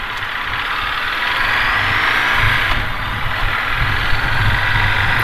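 A Ducati DesertX motorcycle engine idles roughly at close range, a low rumble that holds throughout as if close to stalling, with no voices.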